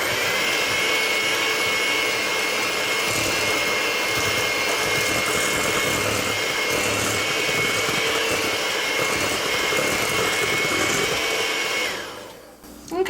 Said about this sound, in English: I'm just going to give this a quick little mix up